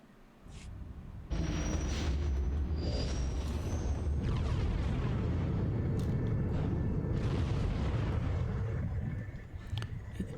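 A starfighter blowing up in the space combat game SWTOR Galactic Starfighter, a sudden loud rumbling blast that swells and roars for several seconds before trailing off.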